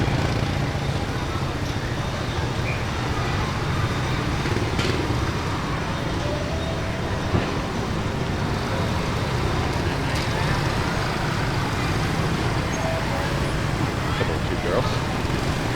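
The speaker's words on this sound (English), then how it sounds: "They can bring the trucks in." Dense, continuous street traffic rumble at a Tet festival in Vietnam as trucks drive in through the gates, loud and steady with voices talking throughout.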